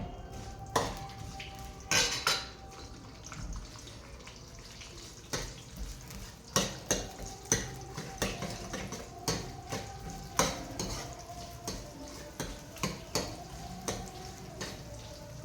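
Onions frying in a pan for a vanjarama fish curry, a soft sizzle under repeated scraping and stirring clinks of a metal spoon against the pan, fairly close and steady.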